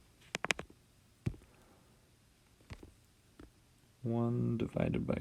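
Several light plastic taps of keys on a calculator, scattered irregular clicks at close range, followed by a person speaking.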